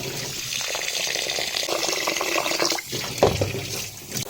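Rice being washed by hand in water inside a large pot, for a seeraga samba mutton biryani: continuous close sloshing and splashing with swirling water, a brief pause near the end before more stirring.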